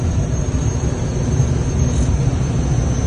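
Small aircraft in steady flight at about 55 knots and 1,800 feet: a constant, loud engine drone with a fixed high whine, heard alone without speech.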